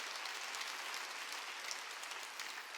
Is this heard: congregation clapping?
yes